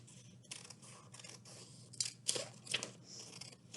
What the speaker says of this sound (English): take our scissors and we're actually going to cut this strip right off